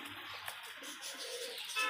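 A desi high-flying pigeon coos softly and faintly in short low murmurs against quiet outdoor background.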